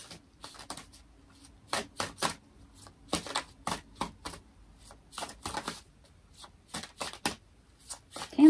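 Tarot cards are shuffled for a reading in bursts of quick, soft riffling and flicking, close and fairly quiet, separated by short gaps of near silence.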